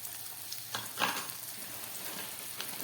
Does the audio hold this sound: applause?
no